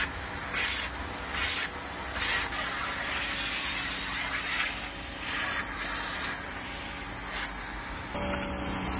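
An Iris Ohyama SBT-512N pressure washer sprays a kei truck outdoors, a steady close hiss of water jet with rhythmic swells as the nozzle sweeps across the bodywork, then a brief pause near the end.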